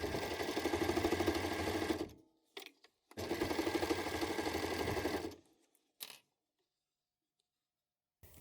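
An overlock sewing machine stitches the hood onto a hoodie in two fast, buzzing runs of about two seconds each, with short clicks and handling noises between them and near-silence after.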